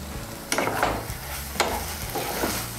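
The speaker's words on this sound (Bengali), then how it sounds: "এখন আঁচটা বাড়িয়ে দেব, বাড়িয়ে দিয়ে একটু নাড়াচাড়া করে নেব।" Cooked radish is stirred in a pan over raised heat for a Bengali chorchori, a soft steady sizzle broken by a few sharp spatula scrapes and taps against the metal, close by and with no talking.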